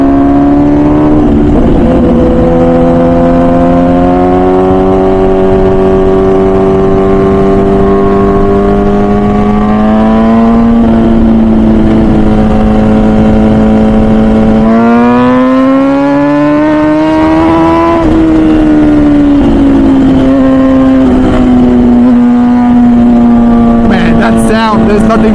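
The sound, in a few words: MV Agusta Brutale 1000 RR motorcycle engine revving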